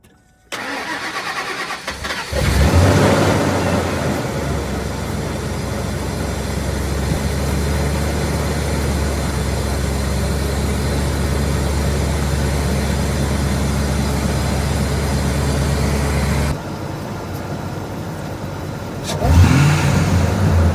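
A Ford 5.4L Triton V8 with a Flowmaster Y-pipe-back muffler and exhaust cranks and starts, then holds a deep, rumbling idle for a long stretch before a rough rev surges near the end.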